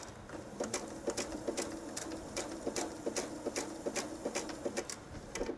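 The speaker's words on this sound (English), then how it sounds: "Now we're doing the real stitching for the strap to get that in." A sewing machine stitching a purse strap runs in a series of short, even bursts with brief pauses between them, steady and fairly close, with no voices.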